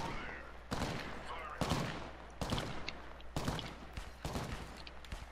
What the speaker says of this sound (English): I'm being shot from somebody else.